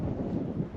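Steady wind gusting at Joker's Tunnel campground near Yalgoo in outback Western Australia, a low continuous rumble buffeting the microphone with no voices.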